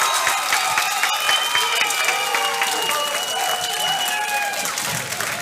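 A baseball crowd at an Eau Claire Cavaliers versus Osseo Merchants game cheering and applauding after a run scores on a wild pitch, loud sustained clapping and whistles that stay strong and taper slightly near the end.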